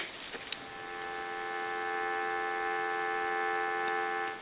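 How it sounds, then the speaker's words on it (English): A steady telephone dial tone comes from a Northern Galion rotary desk telephone, a continuous even hum held for several seconds, quiet and close with a faint click at the start. "We'll go ahead and give you some dial tone"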